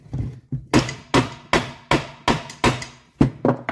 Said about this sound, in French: Et tu tapes dessus, tu vois, pas comme un bourrin, hein, en douceur.